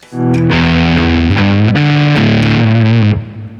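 A heavily distorted, fuzzy electric guitar through an Anasounds Feed Me fuzz pedal plays a short, loud riff of sustained notes that shift pitch several times before cutting off.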